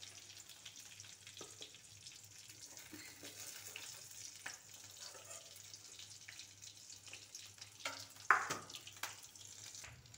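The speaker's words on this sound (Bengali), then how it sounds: "মাছের ডিম কি সুন্দর ভাজা হচ্ছে হিটারে আস্তে আস্তে।" Fish roe frying slowly on an electric heater gives a faint, steady sizzle with small crackles and a few louder clinks of stirring near the end, no voices heard.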